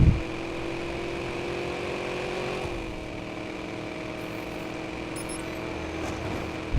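A car cruises along an expressway in the video game Watch Dogs, its engine a steady mid-level hum under road noise, dipping briefly in pitch partway before settling into a constant drone.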